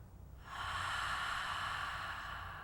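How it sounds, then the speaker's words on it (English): A long open-mouthed "ha" exhalation during yogic Ujjayi breathing, one steady breathy rush lasting about two seconds after a brief pause, close and moderately loud with no talking. "you can practice Ujjayi breath by exhaling the ha sound with your mouth open"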